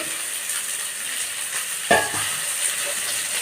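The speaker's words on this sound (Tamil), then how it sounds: "வெங்காயம் நல்லா வணங்கிடுச்சு இந்த சமயத்தில் ஒரு ரெண்டு தக்காளி கட் பண்ணி இதில் சேர்த்திடலாம்" Onions and tomatoes sautéing in a pan with steady soft sizzling and a stirring scrape about midway, with no talking.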